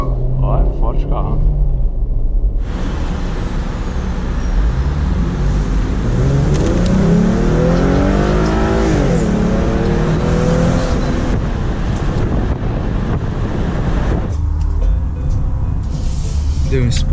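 A powerful car accelerates hard in an onboard test drive: a deep engine rumble climbs steeply in pitch through the gears, loud and close, with people talking inside the cabin.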